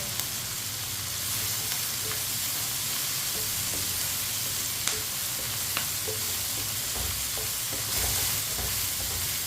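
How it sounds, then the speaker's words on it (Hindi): Besan bhindi, okra with gram flour, frying in a pan with tomato and onion, making a loud, dense and steady sizzle with occasional light clicks of stirring. "अब इसे 2-3 मिनट के लिए दोबारा फ्राई कर लेंगे दोनों चीज़ों को।"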